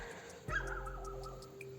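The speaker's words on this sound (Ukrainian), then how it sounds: "Ох, ця собака така противна." A dog in a home garden gives a single short, sharp yelp midway, with a faint whining tone trailing after it over quiet outdoor background.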